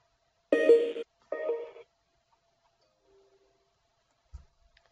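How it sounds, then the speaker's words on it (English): Two short bright electronic chimes sound in quick succession, crisp and near, followed by near silence and a faint low click. "that noise was actually the email that got sent"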